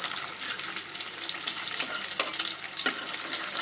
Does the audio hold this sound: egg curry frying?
yes